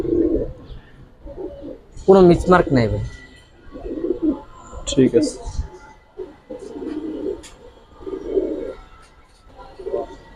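Full silver Giribaz pigeons coo in repeated low, throaty bursts at a steady rhythm, close by, while people talk over and between the calls.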